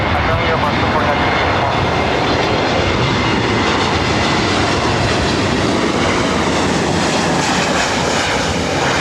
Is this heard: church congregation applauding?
no